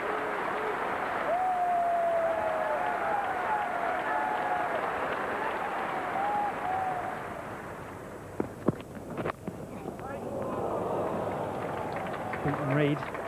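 Applause from the crowd at Lord's cricket ground during an England v New Zealand Test match, a steady distant patter that fades out, followed by a few sharper knocks and faint voices.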